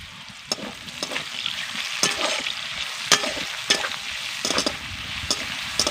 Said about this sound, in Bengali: এবার আমি পেঁয়াজকে ভেজে নেব নরম করে